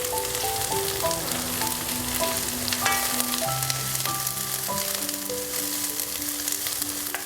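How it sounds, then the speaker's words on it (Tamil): Moringa leaves sauté with softened onions in a pan, a steady close sizzle and crackle running throughout, with faint background music beneath. "இப்போ இந்த வணங்கின வெங்காயத்தோடு நம்ம இந்த கீரையும் போட்டு வணக்குறோம்."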